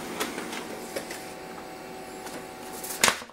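An HP LaserJet MFP M234sdw laser printer prints a page with a steady mechanical hum and soft whirring, a few faint clicks, and a louder rattling clack near the end as the sheet feeds out.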